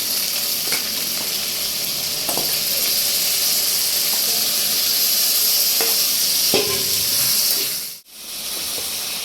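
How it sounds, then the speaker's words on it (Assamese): Pork and duck meat sizzling and frying in a pan, a steady broad hiss running throughout with occasional scrapes and clinks of stirring, close and fairly loud, with a sudden brief drop near the end. "এতিয়া চব মাংসকেইটা ডালি দিম।"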